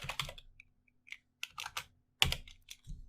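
Scattered, hesitant taps on a computer keyboard as a URL is typed, close and quiet, coming in short bursts with gaps between keystrokes.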